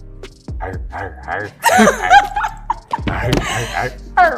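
A voice imitates a dog with barks and yips, mixed with excited voices and a bit of laughter.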